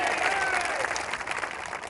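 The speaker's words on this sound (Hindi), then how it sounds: "ताली बजाइए उनके लिए।" An audience at a political address by a member of parliament applauds. The clapping is dense, loud and continuous, and crowd voices mix in beneath it.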